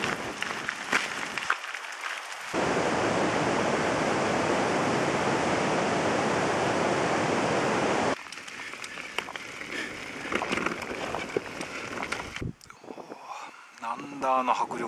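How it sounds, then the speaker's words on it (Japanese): A waterfall in Patagonia, on the Carretera Austral, roars as a dense, steady rush of water in the middle stretch. Quieter outdoor sounds come before and after it. "滝の水浴びが気持ちいい。"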